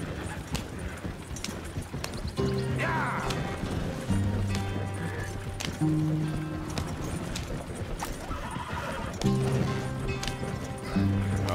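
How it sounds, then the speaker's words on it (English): A horse's hooves clop along at a quick pace in the Red Dead Redemption 2 video game, steady and close, with the game's musical score playing underneath. "Vamos acelerar agora o cavalo."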